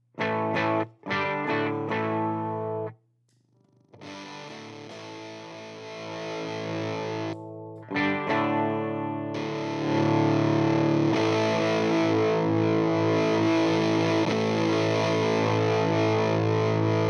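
An electric guitar played through a DIY CopperSound silicon fuzz pedal built on a breadboard, with a resistor substitution box changing the clipping, heard as loud buzzing distorted notes and chords that shift in volume and grit across several phrases.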